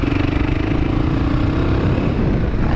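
A motorcycle rides along the road, its engine droning loud and steady throughout with wind buffeting, no talk.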